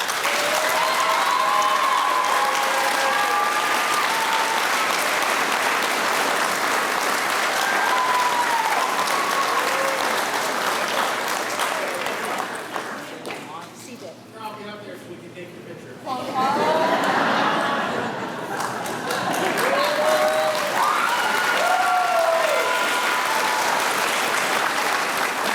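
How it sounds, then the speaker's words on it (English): An audience applauds an athletics award recipient at a school ceremony, producing loud, sustained clapping mixed with crowd chatter and cheers. The noise briefly dips midway while voices call out, then surges back. "Please join me in a round of applause for our first Friends Athletics recipient"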